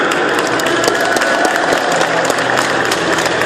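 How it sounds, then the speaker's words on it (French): A wrestling show audience at Japan Expo 2014 claps in a dense, loud, continuous round of applause, close and steady throughout with no talk. "je voudrais aussi que vous fassiez un tonnerre d'applaudissements"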